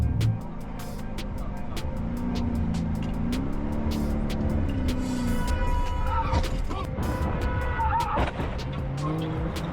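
Engines roar while tires squeal and skid in drawn-out screeches, with a jumble of sharp impacts and clatter partway through as a car rear-ends a Lamborghini.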